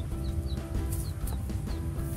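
Chickens cluck inside a backyard coop converted from a garden shed, with several birds making short, overlapping clucks and squawks close by and a hint of wing flapping.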